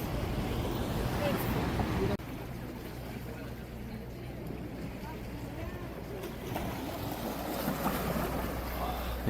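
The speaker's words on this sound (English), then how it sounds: "I'm a sucker for the sound of the sea" Sea waves washing against the shore near Naples at sunset, a steady broadband rush with heavy wind buffeting the microphone throughout, nearby and fairly loud.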